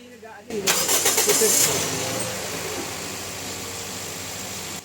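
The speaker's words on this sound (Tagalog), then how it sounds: "Pa-start ko na itong makina." A Toyota Vios engine, which has a stiff clutch pedal and oil buildup, cranks and catches, a loud burst of starting noise that settles into a steady idle hum, with a voice briefly audible.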